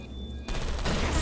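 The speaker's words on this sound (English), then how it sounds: "The turrets are shooting the servers." Automated turrets in the video game Portal Stories: Mel open fire on servers, a sudden rapid burst of gunfire kicking in after a quiet hum and running on loud and close.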